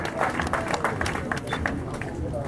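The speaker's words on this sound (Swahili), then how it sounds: "Pigeni certificate yenyewe makofi mazuri" A crowd claps at a marathon prize giving at Ol Donyo Sabuk, with scattered irregular hand claps at moderate distance under background chatter.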